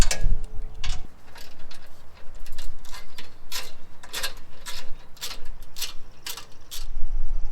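Hand ratchet clicking on 16mm bolts while removing the bumper of a Jeep Wrangler JL, a series of close, sharp mechanical ticks in irregular bursts.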